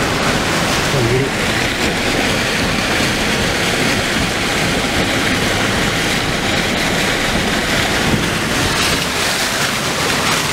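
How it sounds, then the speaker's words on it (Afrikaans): Floodwater from a river pours down a street and into a shop in Makhado, Louis Trichardt, a loud, continuous churning rush with muffled voices faintly underneath. "Dit die water in sy shop, dit nou by die deur."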